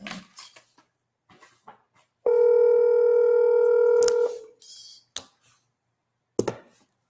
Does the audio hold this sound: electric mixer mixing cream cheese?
no